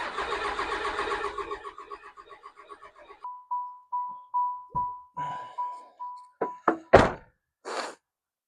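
A 1996 Dodge 12 valve diesel engine cranks over and tries to start: a steady whirring starter and engine grind, then a rhythmic series of clunks and knocks that fade into a few uneven bangs, with no catch and run.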